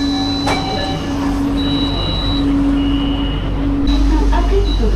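A driverless LRT Jabodebek train stands at Ciliwung station in Jakarta, its steady motor hum and rumble loud and close, with sustained electronic tones and chimes layered above and a sharp click partway through.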